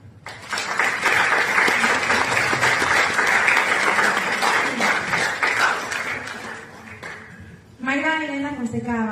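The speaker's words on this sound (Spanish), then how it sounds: "Un aplauso." An audience at a book presentation applauds in a full, dense round of clapping for about seven seconds that tapers off, after which a voice begins speaking.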